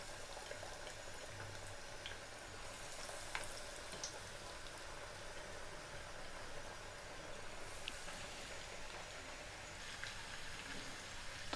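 Fish fingers frying in oil over a low flame, a steady broadband sizzle with faint crackles holding at an even level throughout, no talking.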